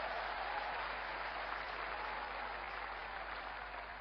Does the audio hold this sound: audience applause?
yes